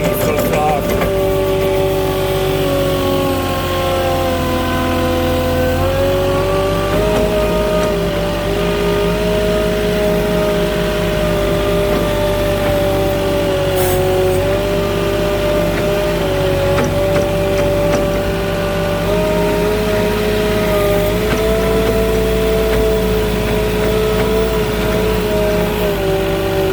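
A vehicle grinds along through soft sand while turning around, its engine droning steadily and close throughout with shifting tones as it works through the loose ground; a voice talks over it at times.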